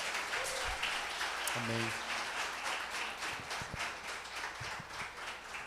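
Church congregation at a conference applauding: a soft, scattered wash of clapping behind a short spoken response, moderately distant and fairly quiet throughout.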